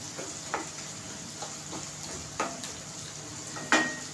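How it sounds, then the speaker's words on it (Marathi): Potatoes sautéing in a pan over a medium gas flame for spicy aloo palak, a steady soft sizzle with a few scraping stirs and one sharp utensil clink near the end, close and alone. "बटाटा चांगला याच्यामध्ये परतून थोडं शिजवून घ्यायचं आहे आणि गॅस माझा मिडियमच आहे"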